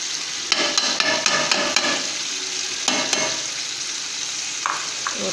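Garlic paste sizzles softly in a frying pan while a utensil stirs and scrapes, with a series of sharp clicks against the pan.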